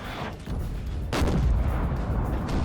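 Cannon fire on a Napoleonic battlefield in Napoleon Total War, deep booming artillery shots with rumbling low thuds, one strong blast standing out amid continuous battle noise.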